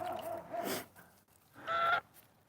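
Canada geese honk in two loud, harsh bursts close by, separated by a short pause, with faint background noise between calls.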